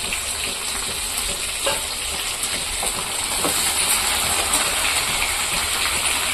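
Ground coriander paste frying in a pan for a fish curry, a steady, hissing sizzle with some faint bubbling that grows slightly louder partway through.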